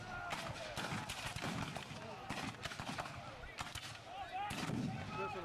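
Cannon and musket fire at an American Civil War reenactment at Kirby Hall, with Confederate guns defending their line: distant cracks and booms in an irregular stream, faint and overlapped by a crowd and a commentator talking.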